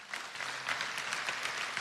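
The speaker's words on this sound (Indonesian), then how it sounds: "Yang percaya kasih tepuk tangan Tuhan." A church congregation applauds during a sermon on divine healing: dense, steady clapping from many hands that holds at an even, moderate level throughout, with no voices over it.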